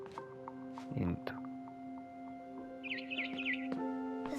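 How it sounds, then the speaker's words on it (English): A few quick, high barn swallow chirps in a short burst from the video game What Remains of Edith Finch, faint beneath a steady hum and a voice talking. "Then I heard chirping outside my window."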